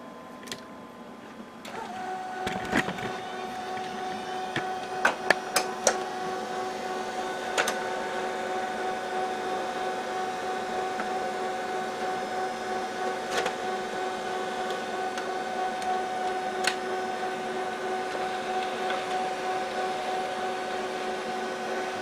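An HP LaserJet 5P laser printer feeds and prints a page, giving a steady mechanical whir with several sharp clicks from the paper rollers near the start. It is close, loud and continuous, with no voices.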